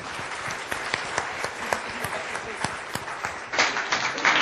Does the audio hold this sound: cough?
no